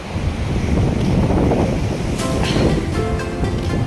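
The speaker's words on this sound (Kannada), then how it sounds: "ವಡೆಕೆರೆ ಬೀಚ್ ಹತ್ರ ಬಂದಿದ್ದೀವಿ." Ocean surf rolls in at Padukere beach, a loud, continuous wash of breaking waves mixed with gusty wind rumble on the microphone, and no speech.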